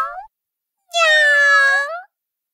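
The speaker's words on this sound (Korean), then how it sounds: "고양이는 냥!" A cat gives a single clear, drawn-out meow lasting about a second, close and loud, just after a brief shorter cry at the start; no talking over it.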